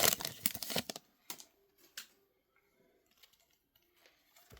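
Plastic wrapping of a 2017 NASCAR Donruss card pack being ripped open, a burst of loud tearing and crinkling up close that fades into softer rustling and card handling.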